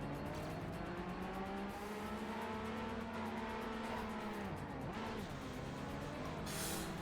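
Several racing video game cars roar along with steady, sweeping engine tones, the pitch climbing and dipping as they accelerate and corner, with a brief tire squeal; loud and continuous throughout.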